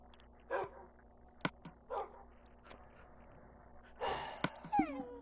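A Minecraft dog gives a few short yips and whimpering barks, spaced apart and fairly close, with a louder cluster of yelps near the end and no talk.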